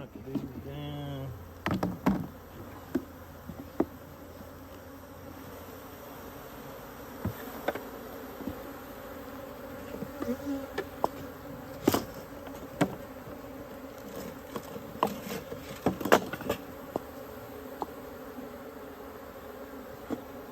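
Honeybees buzz continuously as they are knocked down into a scoop while mini mating nucs are stocked, a steady drone broken by sharp knocks and handling clatter.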